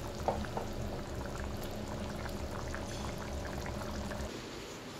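Thin curry bubbling in a pot on a home stove, a steady close bubbling simmer that runs the whole time with no speech.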